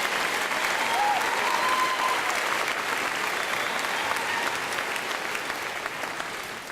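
A large crowd at a spring university commencement claps for graduating master's students, a loud, dense and continuous wash of applause that tapers slightly toward the end.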